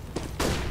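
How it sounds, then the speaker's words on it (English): A flashbang grenade in a shooter game, a short thud followed by a sudden loud, broad burst that lingers, heard close. "I'm throwing the flashbang!"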